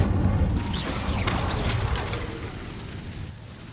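A fire spell cast in the PS5 game Hogwarts Legacy, a loud whooshing burst of flame that roars at first and then trails off into a fading crackle.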